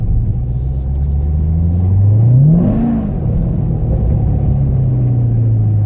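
Corvette Grand Sport accelerating in cold weather on cold tires, the engine a loud, steady rumble whose pitch sweeps up sharply as the revs flare while the tires spin without traction, then settles back to a constant drone.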